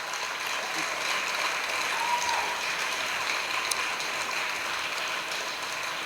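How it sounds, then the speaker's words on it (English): An audience applauds steadily, a dense wash of clapping that holds at an even level throughout, with no one speaking over it. "let's have a special round of applause for our panelists"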